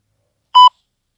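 A single short electronic timer beep marks the end of a countdown, clear and close in otherwise silent surroundings.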